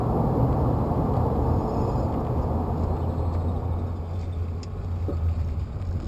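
A car cruises along Route 66 through the desert, a continuous low engine and road rumble heard from inside the cabin, steady and fairly loud the whole time.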